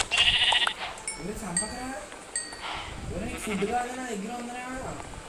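Sheep in Minecraft bleating several times in short bursts, clear and close, mixed with people talking.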